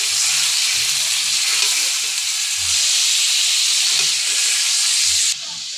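Meat for biryani fries in a pan with a loud, constant hissing sizzle, punctuated by soft scraping and stirring knocks, the hiss dropping slightly near the end.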